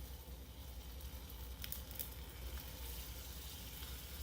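Chopped garlic and onions fry in hot oil, giving a steady low sizzle that runs evenly throughout, with a few brief crackles near the middle.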